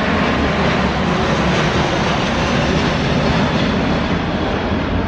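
Singapore Airlines Boeing 737 cargo plane taking off, a loud, steady broadband jet roar that fills the whole clip without pause.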